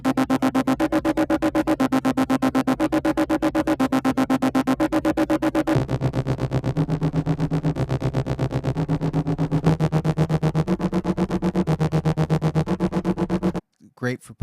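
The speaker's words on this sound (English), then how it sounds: "what these are just repetitive synthy loops that you hear a lot in action music these days" Repetitive synth pulse loop from the Hybrid Injection action library, fast evenly pulsing notes with a shifting bass line, loud and steady for about thirteen seconds before cutting off abruptly.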